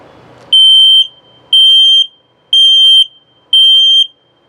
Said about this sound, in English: This is your carbon monoxide LP gas detector. I'll set it off for you.